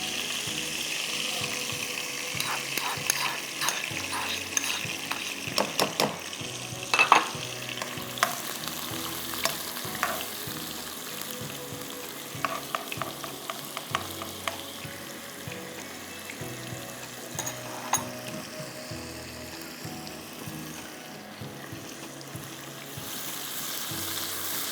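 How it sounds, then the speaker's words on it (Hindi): Chopped onion frying in a pan with oil, a soft continuous sizzle with intermittent scraping and clinking as it is stirred, heard up close with no speech. "और इसमें हम फ्राई करेंगे प्याज।"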